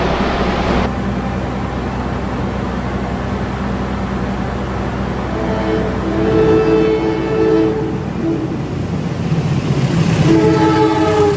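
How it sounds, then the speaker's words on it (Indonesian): A train rolls past loudly and steadily, with rumbling wheels, rhythmic clatter, and a horn sounding in bursts toward the end. "disusul oleh kereta barang parcel juga"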